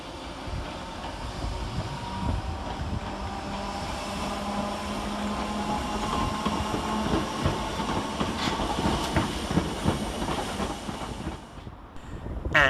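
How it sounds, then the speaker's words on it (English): Merseyrail electric train 508127 departs Chester station, a sustained rumble and electric whine building steadily with rhythmic wheel clicks as it pulls away. "Over on the far side next to depart is 508127 with the 11:45 Merseyrail electric service to Liverpool Central."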